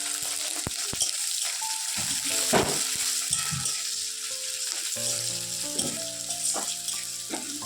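Chopped onion and chili sizzle loudly in a hot pan for a quick chow mein, with steady frying hiss broken by scraping stirs and small clinks of the utensil against the pan.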